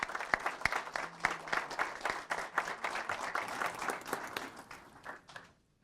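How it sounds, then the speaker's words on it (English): An audience at a city council meeting gives a round of applause, many hands clapping in a dense, fairly near burst that swells, tapers and dies away into quiet at the end. "If we can give her another round of applause,"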